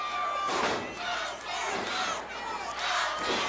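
Packed wrestling crowd at a boys club arena roars for Terry Taylor in rising and falling waves of cheering and shouting, loud and sustained with no single voice standing out.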